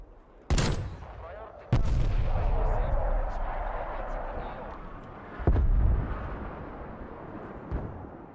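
Hand cannon shots from a first-person shooter boom out in a handful of heavy, spaced blasts, each with a loud crack and a rolling tail, amid game noise.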